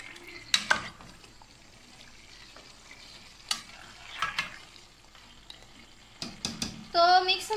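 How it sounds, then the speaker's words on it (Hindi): Chicken and onions stirred together in a frying pan: a quiet, steady sizzle broken by several scraping spoon strokes, and a louder clatter at the end, close up, with no talking. "ऐसे कर देंगे कि प्याज और जो चिकन है वो अच्छे से मिक्स हो जाए"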